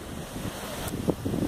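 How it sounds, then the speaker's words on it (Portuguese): Strong surf at Praia da Ilhota beach in Itapema, Santa Catarina, with waves breaking in a steady wash, heavy wind buffeting the microphone and a couple of louder surges near the end. "como as ondas são fortes aqui, ó."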